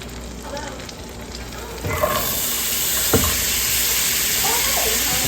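Onions sizzle in butter in a frying pan: a steady, close crackling hiss with faint pops that swells a little partway through, with no talking.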